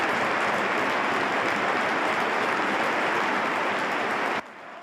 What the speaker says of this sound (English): fans and players stopped for a minute's applause